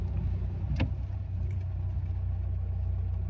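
Steady car traffic rumbles close by on the street as crowds leave the last Easter Sunday mass, a low idling engine drone with one brief passing swish.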